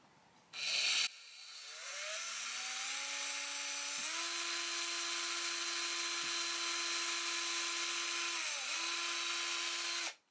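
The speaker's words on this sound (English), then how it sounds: "drill the pilot hole like that" A power drill whirs up and bores a pilot hole into a guitar neck's wood, a sustained high whine that dips briefly as it bites, then stops abruptly after several seconds.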